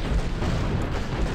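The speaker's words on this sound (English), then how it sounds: "these guys are absolutely no match for the cannon" Heavy cannon fire in the western video game GUN, a thick, continuous low boom filling a brief burst, loud and close.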